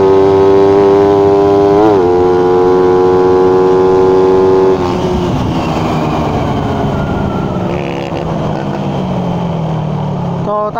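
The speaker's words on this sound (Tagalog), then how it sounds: "Hinihingal na yung motor ko." A 150cc underbone motorcycle engine revs hard with a sustained high-pitched whine, then drops off and settles into a lower, rougher idle; loud and close throughout.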